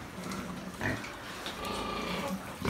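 Pigs on a Japanese pig farm, near a pregnant sow close to farrowing, give low grunts amid steady barn noise and a faint trickle of water, the snorts rising briefly at moments rather than standing out strongly.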